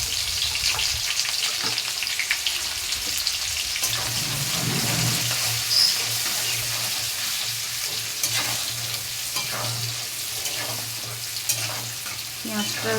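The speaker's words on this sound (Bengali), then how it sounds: "পেঁয়াজটা একটু লালচে লালচে ভাজা হয়ে যাবে" Diced onions frying in a pan, a steady close sizzle with scraping stirring sounds and a low hum underneath, continuing for the whole stretch without talk.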